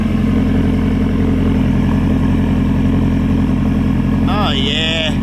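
A car with a new loud aftermarket exhaust and tips idles close by in a steady, deep throbbing drone, with people talking over it near the end.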